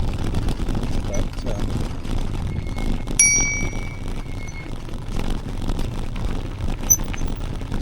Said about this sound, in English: sorry about the bell, it sounds a bit rude, doesn't it?